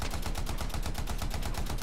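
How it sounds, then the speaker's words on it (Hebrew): A cannon-like weapon in the video game Anthem fires in rapid, evenly spaced bursts, a continuous rattling barrage of loud shots over under two seconds. "לא, לא, התותח הורג אותי."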